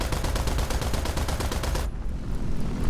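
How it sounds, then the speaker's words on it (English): Aircraft cannons fire in War Thunder as a rapid, loud, steady burst of gunfire that stops abruptly near the end, leaving engine drone. "We're also going to empty our cannons."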